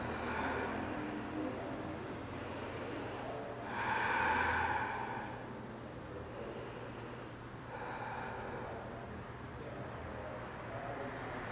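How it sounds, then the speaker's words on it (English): Deep, slow grounding breaths during a power yoga practice come through as a few audible inhales and exhales spaced several seconds apart, soft and close, with one fuller breath standing out. "Take a few grounding breaths."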